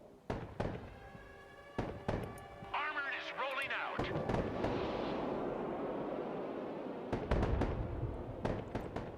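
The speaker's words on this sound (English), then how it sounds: "There is a soldiers there. They're shooting." Broken Arrow real-time strategy battle: soldiers fire in bursts of sharp cracks and booms, some heavy blasts, over a steady rumble of combat and music, with someone talking over it.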